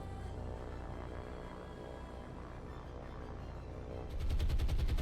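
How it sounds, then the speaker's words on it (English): Naval gunfire aimed at cargo and passenger merchant ships in the World War II video game War on the Sea, heard as a steady rattle of distant machine-gun-like bursts that grows louder and sharper near the end. "are shooting at these two cargo ships"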